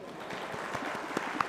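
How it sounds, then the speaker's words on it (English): Quiet applause from an audience at a corporate awards event in Singapore, a soft, steady patter of clapping with a few sharper claps near the end. "And please clap"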